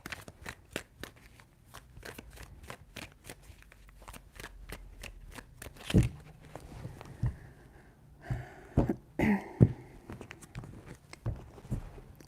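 Tarot cards are shuffled by hand in a run of crisp, rapid riffles and snaps, close and fairly quiet, with a few louder handling thumps and rustles toward the end.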